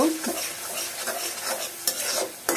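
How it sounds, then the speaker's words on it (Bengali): Dried hilsa fish with garlic stir-fried in a pan, a loud, close, continuous sizzle broken by scraping stirs of a spatula. "তো সবগুলো একসাথে দিয়ে এখন ভালোভাবে কষিয়ে নেব।"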